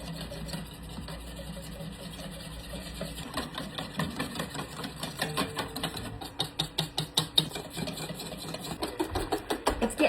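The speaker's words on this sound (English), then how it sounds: "I'm just gonna use this whisk. Try to get it beat up really good." Whipped topping being beaten by hand with a wire whisk in a bowl, a rapid rhythmic clatter of strokes that grows louder and sharper toward the end, close up with no talking.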